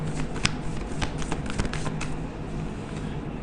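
Tarot cards being shuffled by hand: a steady papery riffling and shuffling with quick soft snaps and taps, close and fairly quiet, with no talking.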